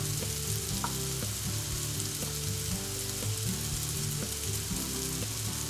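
Crushed garlic and vinegar sizzle steadily in a hot pan for tofu al ajo cabañil, a continuous close frying hiss with faint stirring clicks throughout.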